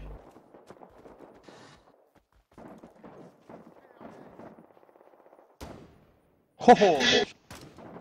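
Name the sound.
gunfire in the video game Rising Storm 2: Vietnam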